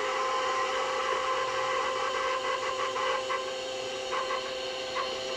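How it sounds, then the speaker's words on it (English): An electric mixer creams butter as sugar is poured in, giving a steady, fairly loud motorized whirr with faint rhythmic rasping from the beaters. No one speaks. "I'm turning my mixer on and adding my 2 cups of sugar"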